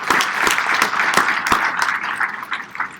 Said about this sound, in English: we must give him a round of applause